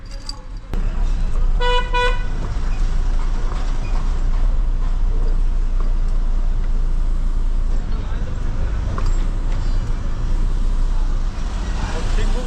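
Busy road traffic jam near Crawford Market in Mumbai, with a continuous engine rumble; a car horn toots briefly near the start, with faint voices in the noise.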